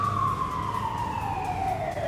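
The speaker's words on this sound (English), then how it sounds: "Sorry about the sirens, you guys." A siren wails steadily and loudly, its tone gliding slowly downward as it passes, with traffic rumble beneath.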